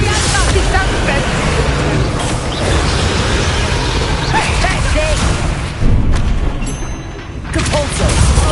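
Spell explosions from Bombarda and Confringo in the Hogwarts Legacy video game, a dense run of booming blasts over continuous rumbling game noise, with a player shouting spell names throughout.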